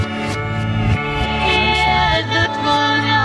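A country song played in reverse: smeared backwards singing and instrumentation with swelling, reversed-attack notes, continuous and fairly loud over the short stretch.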